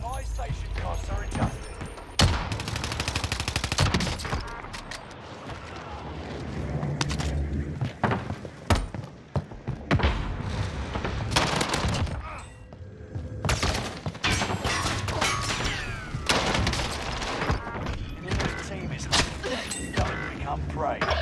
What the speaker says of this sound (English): I'm not too sure where I'm getting shot from right now.